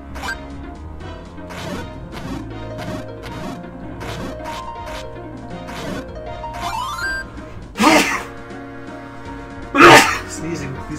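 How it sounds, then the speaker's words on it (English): A sneeze bursts out loudly twice, at about eight and ten seconds, sharp and close, over a steady background of game music and sound effects. "Sneezing, please wait."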